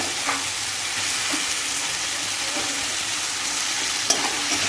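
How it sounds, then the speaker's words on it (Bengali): Prawns frying in a pan of spice masala with tomato and chilli, a loud continuous sizzle with spatula stirring scrapes close by, no talking. "ভালো করে মিশিয়ে নিয়ে এইবারে চিংড়ি মাছগুলো দিয়ে দেব"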